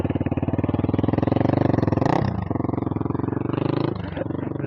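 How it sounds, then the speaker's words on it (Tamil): Apache V3 motorcycle fitted with an aftermarket full-system exhaust, revved up close by in a steady throbbing burst with a sharp throttle blip in the middle and another rise near the end. "விளாக் எடுக்கிறோன்னு பார்த்தோடே த்ராட்டில் பண்ணி காமிக்கிறாருங்க."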